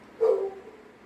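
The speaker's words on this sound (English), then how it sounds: "Dog barking." One short, moderately distant bark from a dog, a single clipped woof that fades quickly into a quiet room.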